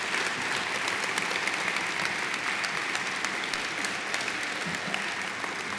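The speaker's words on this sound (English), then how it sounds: "How about one more round of applause for all of our speakers?" Sustained round of applause from an audience for the speakers at a campus memorial event, an even wash of many hands clapping, fairly distant and steady, with faint crowd murmur.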